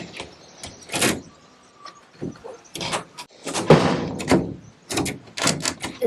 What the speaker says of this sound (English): I'm going to just try and get this front door on